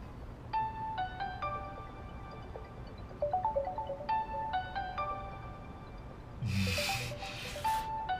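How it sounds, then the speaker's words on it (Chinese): A phone ringtone plays a bright electronic melody of repeated tone phrases for an incoming call, followed by a brief rustle near the end, fairly quiet and with no talking. "接个电话。"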